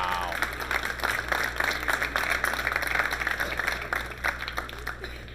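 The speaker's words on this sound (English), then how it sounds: "a very well-deserved round of applause" Audience applause rises after a jump shot at a professional ten-ball pool championship match, a steady wash of clapping from a crowd in the hall that carries through the whole moment at moderate volume.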